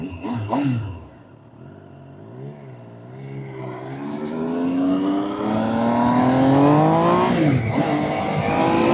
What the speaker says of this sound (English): let's do some engine noise test